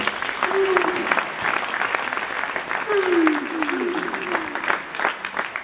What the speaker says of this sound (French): on accompagne le président dans les applaudissements, s'il vous plaît.